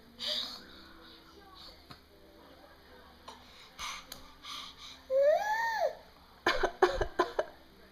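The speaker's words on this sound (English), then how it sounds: "I think Mommy's coming down with the fake cough." A woman fakes a cough, a few short exaggerated coughs and a whimpering vocal sound, close and moderately loud, amid quiet room noise and soft ticking.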